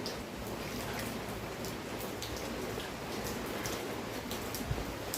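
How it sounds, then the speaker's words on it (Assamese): Steady rain falls in a dense, even hiss with scattered drop impacts, close and continuous throughout, in the early evening before a road trip from Ghograpar to Golaghat. "এই চাওক বৰষুণ।"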